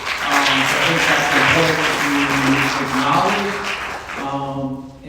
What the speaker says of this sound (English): Can we get applause for some liberation?